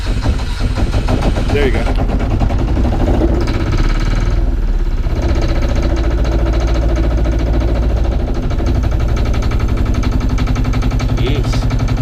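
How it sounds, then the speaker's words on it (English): A loud, rapid thumping single-cylinder diesel engine on a Cape Dory 25D sailboat chugs steadily at close range, rattling throughout, with brief talk over it. "it's a single cylinder engine and a thumper"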